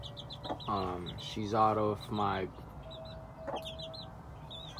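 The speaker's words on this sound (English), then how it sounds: "So this hen right here" A game hen clucks in a few short, rhythmic bursts close by, under a man's speech, with a faint rooster-like call in the background.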